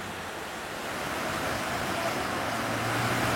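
River rapids rush in a steady, broadband roar of churning water, unbroken throughout and growing slightly louder toward the end, with no voices.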